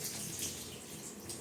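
Hot water runs steadily from a tap to bathe a dog, a faint, continuous hiss and splash at a distance with no talking.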